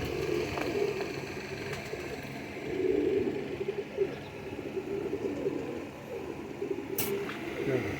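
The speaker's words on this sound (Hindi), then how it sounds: "प्योर डब वाले कबूतर हैं" Pure Dab breed pigeons, a pair and a single female, coo in low repeated rolling phrases, close and steady, with a voice talking over them.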